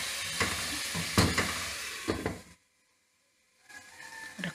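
Chicken sautéing in a pan for mongray chicken, a close sizzle with stirring scrapes and clatters that cuts to silence for about a second before the frying resumes, with no speech.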